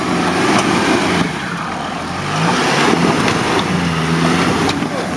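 An off-road SUV engine revs hard as the driver steps on the gas on rough terrain, a steady loud roar with rising surges. Voices are faintly heard in the background.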